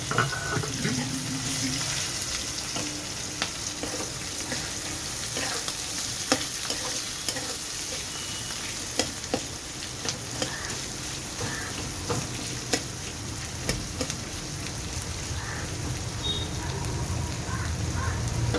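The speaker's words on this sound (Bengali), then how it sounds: "পেঁয়াজটা একটু লাল লাল করে আগে ভাজাটা করে নিই" Onions frying in oil with dried red chillies in a pan for white Kalta fish curry, a continuous sizzle broken by repeated scraping clicks of a spatula stirring, close and fairly loud.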